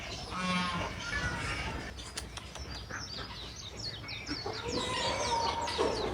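A black Silkie rooster clucks and makes short calls nearby, with bird chirps mixed in against a soft outdoor background.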